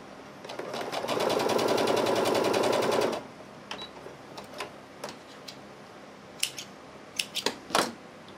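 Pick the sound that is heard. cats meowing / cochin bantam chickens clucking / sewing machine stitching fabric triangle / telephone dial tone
sewing machine stitching fabric triangle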